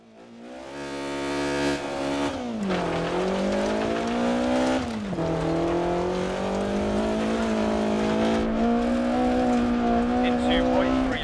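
A rally car engine in the DiRT Rally racing game revs and drops as gears shift, a loud, rising and falling whine with occasional tire noise, heard close and continuous.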